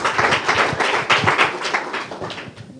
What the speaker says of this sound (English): And with applause, of course.